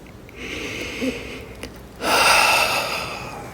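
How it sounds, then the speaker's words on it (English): A slow deep breath drawn in and released, quiet at first with a stronger, breathy exhale in the second half, heard alone in a calm, still setting. "So let's take a deep breath."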